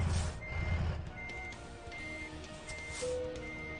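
Truck reversing alarm in American Truck Simulator while hooking up a trailer: a steady series of high electronic beeps over a low diesel idle rumble, with a brief air-brake hiss, no talking.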